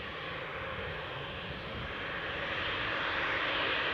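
An airliner departs Newcastle airport, its engine roar rising steadily from a moderate distance into a louder, broad hiss and rumble, with no one speaking.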